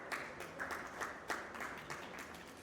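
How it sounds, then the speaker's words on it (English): An audience applauding a panel of experts at a conference session on AI, steady moderate clapping from a small crowd with bursts of sharper claps, at a fair distance. "A round of applause, please,"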